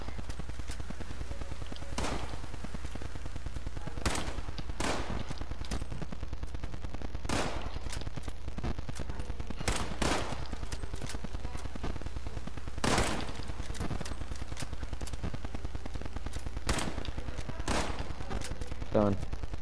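Gunfire in Fallout 76 as targets are shot, sharp single shots spaced irregularly every second or few over a steady low hum, with people talking throughout.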